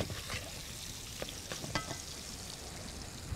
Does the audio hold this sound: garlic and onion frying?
yes